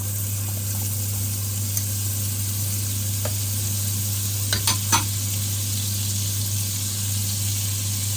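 Butter frying in a pan for a quick breakfast gives a steady, close sizzle with a constant low hum underneath and a few brief scraping clicks, with no talking.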